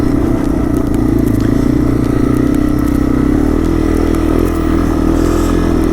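A Yamaha TW200 motorcycle runs along a soft, wet desert trail in Lucerne Valley, its engine droning loud and steady up close with scraping and rattling over the rough ground.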